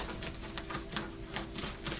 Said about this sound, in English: 2 more shuffles, they said.